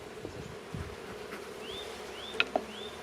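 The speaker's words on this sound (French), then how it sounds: "les abeilles ne sont pas déprimées, hein, elles travaillent" Honeybees buzz around a hive colony just brought out of a cellar, a soft steady drone close by with a few sharper passes of individual bees flying near.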